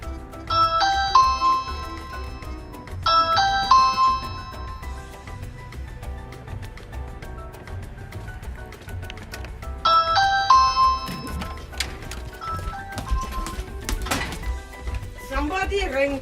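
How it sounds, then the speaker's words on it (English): A newly installed Ring video doorbell sounds its chime three times, each a bright ascending run of ringing tones, with a person talking quietly underneath and some clattering near the end. "Somebody rang the doorbell."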